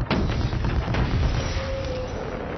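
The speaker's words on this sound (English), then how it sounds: "Shooting at the building." Gunfire aimed at a building in a science-fiction film action scene, heard as heavy booming blasts and rumbling explosions that run dense and loud through the whole short stretch.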